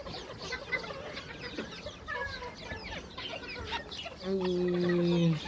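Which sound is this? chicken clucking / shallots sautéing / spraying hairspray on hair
chicken clucking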